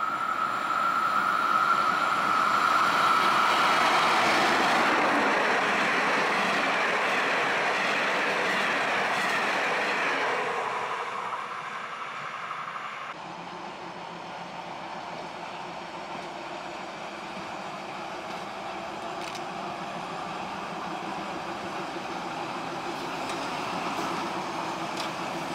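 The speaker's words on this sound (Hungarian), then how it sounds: "Ismét egy műremek érkezik. Ikonikus példánya a Magyar Vasútnak." A Stadler KISS electric double-deck train arrives on Hungarian railway tracks, its wheels and motors rumbling loud up close, with a brief squeal, then the sound fades to a steady lower roll and rattle.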